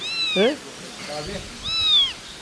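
A cat meows loudly and close by several times, drawn-out rising and falling calls separated by short pauses.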